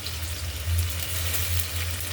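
Onion paste spitting and sizzling in hot oil in a wok, a steady close frying hiss with a low rumble that swells and eases, no talking.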